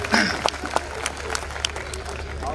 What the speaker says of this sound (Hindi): एक बार आप तालियां बजा दें, मैं कविता शुरू करता हूं।